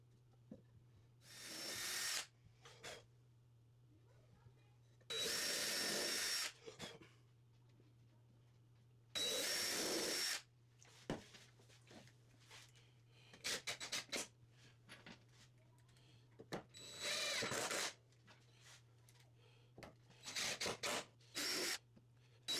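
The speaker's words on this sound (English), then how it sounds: "drill 1 hole per plank per cross support, and screw ideally with brown deck screws" A power drill bores holes and drives brown deck screws into wooden planks on a sled, in several short, loud bursts of whirring separated by quiet pauses.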